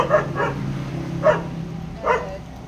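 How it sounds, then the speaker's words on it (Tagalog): A dog barks at a gate, giving three or four separate barks spaced irregularly over a low steady background hum. The barks sound fairly close. "Si Brownie, tumatahol"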